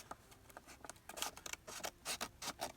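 Scissors snip through paper for a scrapbook page, a close, quiet series of quick crisp cuts in an irregular rhythm, growing denser toward the end.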